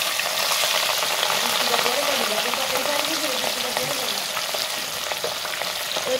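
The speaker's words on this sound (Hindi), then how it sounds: "एबे तेल गरम हो सारी मु खंडे खंडे माछ को ऑयल को पके छि भाजी" Pieces of fish frying in hot oil in a village-style home kitchen, a steady dense sizzle with crackling spits running continuously at close range.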